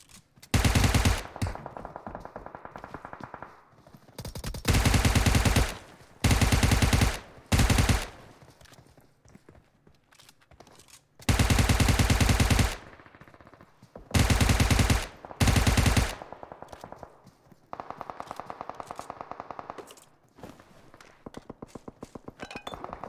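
Automatic gunfire from a PUBG Mobile match comes in several loud, dense bursts of rapid shots with brief pauses between them, close and sharp, over quieter game noise.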